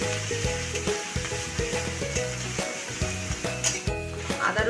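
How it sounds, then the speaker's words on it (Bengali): Grated ginger and garlic fry in oil in a pan, a loud close sizzle broken by repeated rhythmic stirring knocks and scrapes of a spatula, with no voices. "আদার তেলটা একটু ভালো করে ভেজে নিতে হবে।"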